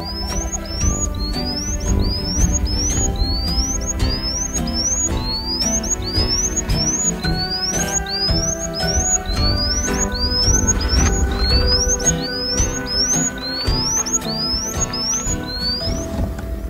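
A lark sings over music in an Indian fox habitat, its rising whistled notes repeating steadily through the whole stretch, bright and clear above a dense musical bed.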